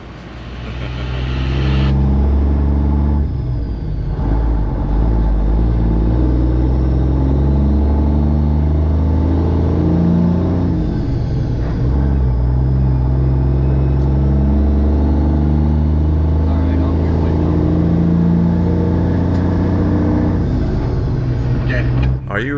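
An owner-operator semi truck, running empty, cruises down Highway 75 with a loud, steady engine drone and road rumble close by, and voices talk over it in places.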